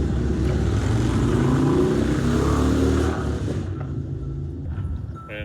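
Cars rev loudly nearby, as at a drag strip, in a deep rumbling engine roar that holds steady for about three seconds and then fades into a lower, fluctuating drone.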